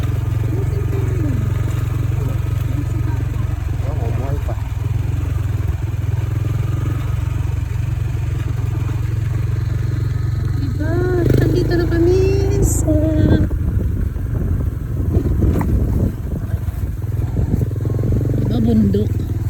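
Steady low motorcycle engine drone while riding toward a mountain farm, continuous throughout, with clattering and bursts of people talking over it in the second half.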